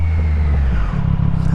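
Exhaust of a 2024 Triumph Street Triple RS motorcycle, not yet fully warmed up, rumbling close by in a deep, steady low idle with a slight pulsing burble and no talk.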